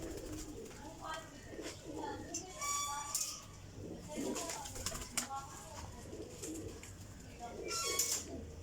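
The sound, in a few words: pigeons cooing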